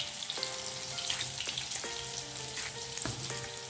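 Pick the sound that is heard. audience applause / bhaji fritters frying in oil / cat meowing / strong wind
bhaji fritters frying in oil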